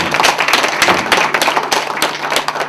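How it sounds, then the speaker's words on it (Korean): Audience applause at a formal Korean gathering of a climate association as a local committee chair is introduced, a dense, steady patter of many hands clapping throughout, fairly loud with a faint hum beneath. "큰 박수 한번 부탁드리겠습니다."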